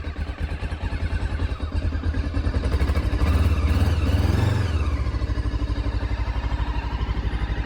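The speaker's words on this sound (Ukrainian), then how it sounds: "Ну, раз я його завів, то вже хай попрацює до гарячого" A carbureted motorcycle engine idles after a cold start with the choke on in winter at about plus one degree, a close, even, loud putter that swells briefly midway and settles again, with no talk.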